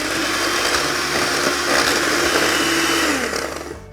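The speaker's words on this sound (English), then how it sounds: "Now I'll whisk the double cream till it forms soft peaks." An electric whisk whips double cream toward soft peaks with a loud, constant motor whir held close, the steady drone easing and cutting off right at the end.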